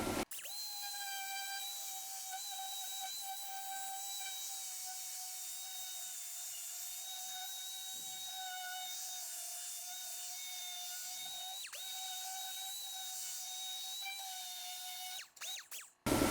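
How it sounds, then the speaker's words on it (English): Power sander working the inside of a 1933 Ford fender to strip epoxy primer, a steady high-pitched whine held continuously at close range with a brief dip near the end. "We'll have to sand on the inside too, because that epoxy primer really screws up the welding process with fumes."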